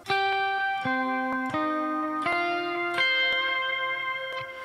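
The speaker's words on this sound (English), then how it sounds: "Man, that reverb is so long." Clean electric guitar notes through a Neural DSP Nano Cortex ring out one after another, each washed in a long, lingering reverb tail that blends into the next.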